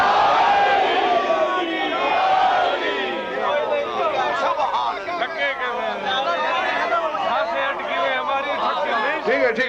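Large crowd at a religious gathering celebrating Imam Ali roaring the Naara-e-Haidari slogan in unison, loud massed voices rising and overlapping in sustained chanted calls throughout.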